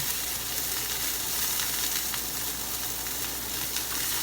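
Broccoli fries in a hot pan with a loud, dense, even sizzle and hiss throughout, stirred with a wooden spoon, with no voices over it.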